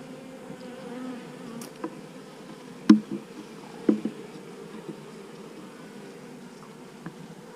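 Honey bees buzz steadily around a hive frame with drawn comb and honey, a close continuous hum with a few brief knocks and bumps as the frame is handled.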